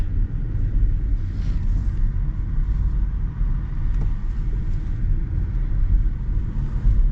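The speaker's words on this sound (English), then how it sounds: "Now around the parking lot, this 3-cylinder doesn't do too bad. See once we're up and moving." A 2025 Chevy Trax with a three-cylinder engine rolls slowly through a parking lot, a steady low engine and road rumble heard from inside the cabin, with no one talking.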